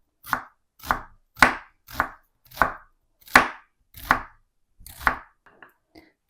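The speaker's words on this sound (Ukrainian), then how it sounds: "А я поки дуже-дуже дрібненько нарізаю цибульку" A knife finely chops onion sharply on a cutting board, about eight distinct strokes at a steady, unhurried pace, followed by a few faint taps.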